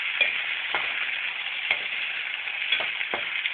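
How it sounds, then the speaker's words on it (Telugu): Chopped vegetables for sabji upma frying in a pan while being stirred, a steady close sizzle with occasional soft scraping strokes of the spoon, no voices. "మధ్య మధ్యలో ఒకసారి ఇలా కలిపి తిప్పుకుంటూ"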